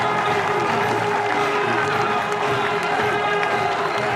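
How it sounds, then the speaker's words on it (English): A cricket crowd at a 2005 NatWest Series match between Bangladesh and Australia roars steadily after a catch, a dense, continuous wash of cheering and clapping filling the whole stretch. "Cries of easy in the crowd."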